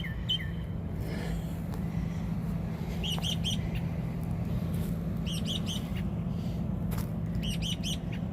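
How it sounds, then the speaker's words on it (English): Outdoor bird chirping: several short bursts of high, quick tweets recur against a steady low hum of ambient background noise, with no talking. "Bird."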